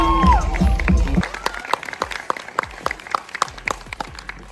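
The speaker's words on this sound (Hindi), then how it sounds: "एक बार जोरदार ताली हो जाए एसआर पे के लिए।" An audience at a Delhi horror festival applauds after a speaker finishes, a burst of clapping that follows the tail of his voice and then thins into scattered claps.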